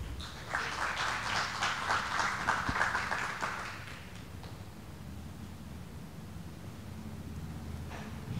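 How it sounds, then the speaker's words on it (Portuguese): Audience applause after a call for a round of clapping at an architecture debate in a museum, a burst of dense clapping for about four seconds that then drops off into room hush. "para uma salva de palmas"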